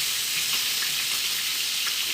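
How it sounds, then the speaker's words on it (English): Food sizzles steadily in a HexClad non-stick pan, a constant bright frying hiss with faint crackles and no voices. "We're gonna sizzle these."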